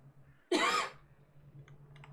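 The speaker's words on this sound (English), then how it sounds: "Just a teasing cough." A single sharp, deliberate cough from a commentator during a competitive Total War Warhammer 2 tournament broadcast, close and loud, standing alone over a faint steady hum.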